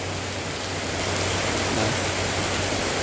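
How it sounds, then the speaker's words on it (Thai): Steady rain falling without wind: a dense, even hiss of drops on surfaces, continuous and fairly loud throughout, with no talk. "นี่ฝนตก ต่อเนื่องนะครับ"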